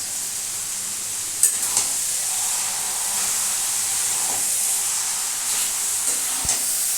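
Mixed vegetables with a little garam masala sizzling steadily in a pan, with a few spoon scrapes and clinks as they are stirred; continuous hiss throughout, no talking.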